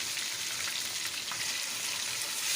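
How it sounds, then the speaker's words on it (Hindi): Chicken browns in a pan for a Hyderabadi-style chicken shorba, giving a steady, close, even hiss of frying oil with no talk over it. "अब देखें, इसको अच्छी तरह से थोड़ी देर रोस्ट कर लें चिकन को।"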